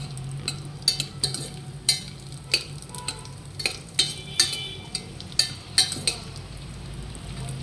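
Dry fruits roasting in ghee over a low flame, with a steady soft sizzle under repeated sharp clinks of a spoon stirring against the pan, no voices.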